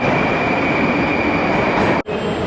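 A Tashkent metro train runs through a tunnel with a loud, steady roar and a high whine held throughout, broken by a brief dip near the end, and no voices over it.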